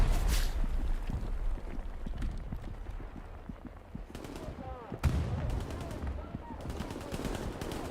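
Continuous battlefield gunfire in the World War II shooter Hell Let Loose, dense rattling rifle and machine-gun shots close by, with a sharp loud crack near the five-second mark and possible ricochet whines, no talking.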